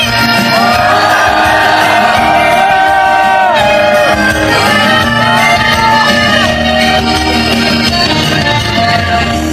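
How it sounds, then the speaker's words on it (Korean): A large crowd at a Korean candlelight rally against the Korea–US FTA roars with sustained, loud shouting and cheering, voices swelling together and continuing without a break. "다시 한번 아까의 가봤던 함성을 더 크게 해보겠습니다"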